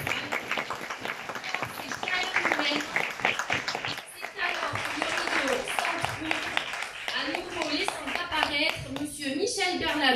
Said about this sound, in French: Une nuée d'applaudissements envahit la salle